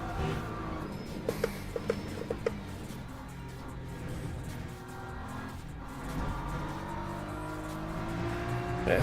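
A BMW race car engine drones and revs continuously in a racing video game, with brief tire squeals and clicks early on and a rising pitch near the end.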